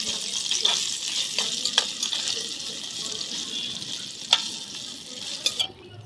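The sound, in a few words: cauliflower frying in a pan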